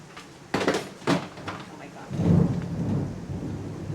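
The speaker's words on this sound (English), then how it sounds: "Hopefully it's raining a lot," Steady rain with low rumbles of thunder rolling in, a deep boom swelling in the second half over the constant patter.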